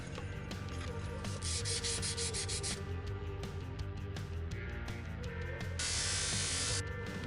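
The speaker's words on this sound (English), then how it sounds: "we're sanding with 400, 600, and 1000 grit sandpaper" Continuous rhythmic sanding of a utility knife with 400, 600 and 1000 grit sandpaper, a dense hissing rub repeated in quick strokes, close and steady with brief brighter bursts.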